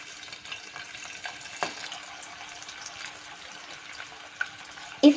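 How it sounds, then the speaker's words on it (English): Chicken fries in oil in a pan over a slow flame for chilli chicken, a soft steady sizzle with faint crackles and a brief louder clatter at the end. "Now take the oil in a pan and fry the chicken on a slow flame."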